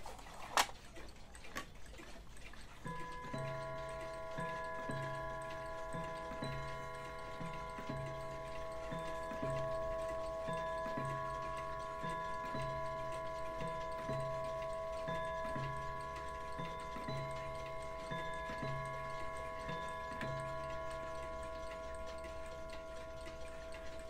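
A Weimar clock running on a replacement movement ticks steadily and quietly in a still room, each soft tick evenly spaced, with a faint ringing tone lingering after an early knock.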